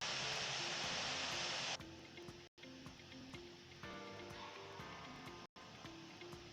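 Simulated Boeing 747 in Northwest Airlines livery taxiing to a runway in Infinite Flight, a steady low engine drone running throughout, starting with a loud broad rush that drops away after the first couple of seconds.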